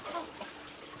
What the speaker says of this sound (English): I'm going to put a little more water in